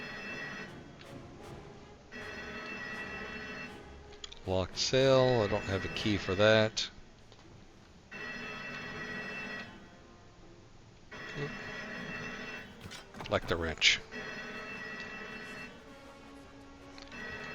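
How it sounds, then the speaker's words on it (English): Electric bell-like alarm in the Indiana Jones video game, repeated bursts of continuous ringing a couple of seconds each with short gaps, mid-loud, with someone talking over it in between. "Yep, that's an alarm."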